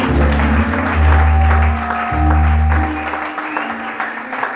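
A church congregation applauds loudly, a dense wash of clapping that swells over a low organ-like chord backing and then thins out toward the end.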